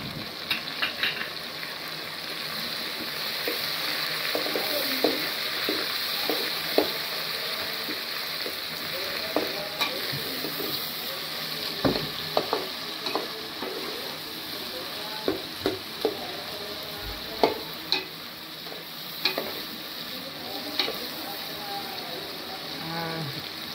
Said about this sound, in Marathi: टमाटर भाजून घेऊ तर चांगलं, म्हणजे असं तळवून तेलामध्ये